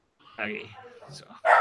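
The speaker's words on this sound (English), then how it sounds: "That is my dog." A pet dog gives a single loud, sharp bark close by at the end, after a person talks briefly.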